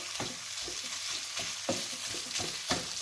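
Minced pork and chili stir-fry in a pan, a steady close sizzle broken by repeated scraping strokes of a spatula, with no voices.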